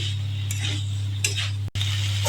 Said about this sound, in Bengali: এবার আলু ফুলকপি ভালো করে কষিয়ে নেব মশলার সাথে।